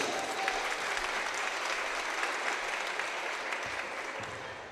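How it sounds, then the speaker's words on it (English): Steady applause from the crowd at a girls' high school basketball game, continuous and fairly loud throughout, fading slightly at the end. "Round of applause for our fifth graders."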